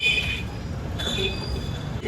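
A metro train rumbles steadily with a low, continuous roar and faint high wheel squeal on the rails, close by and without talk.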